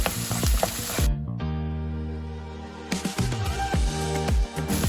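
Mixed vegetables fry in a pan with ginger garlic paste for fried rice. Stirring and scraping come through in bursts, with sustained tonal background music throughout.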